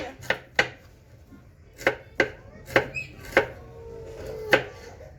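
A knife chops half a shallot on a board with about ten crisp, sharp knocks at an uneven pace, some in quick pairs, heard close and clear over a quiet background with no speech.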